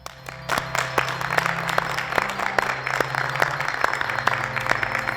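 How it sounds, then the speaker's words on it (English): Audience applause after a motivational talk to teachers, moderate clapping with distinct individual claps standing out and a faint crowd murmur beneath. "give yourself the biggest round of applause ever."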